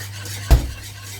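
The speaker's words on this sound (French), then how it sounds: "Bien mélanger surtout, hein, jusqu'à ce qu'elle s'épaississe." Béchamel sauce is stirred with a utensil in a pot, one sharp knock of metal against the pan standing out over a low steady hum, close and brief.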